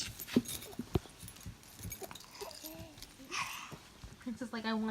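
A puppy whimpering in a few soft, brief whines between quiet thumps and shuffling, close by, with people talking over it.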